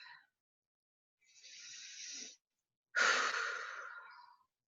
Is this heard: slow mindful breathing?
yes